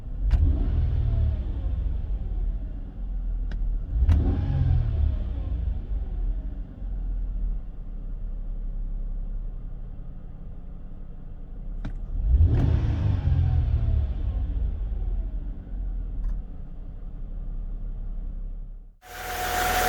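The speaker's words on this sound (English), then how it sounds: "how the engine sounds and revs" A Mercedes-Benz CLK (W209) M112 V6 engine at normal operating temperature revs up sharply three times, each rev rising and falling back to a steady idle, close and loud.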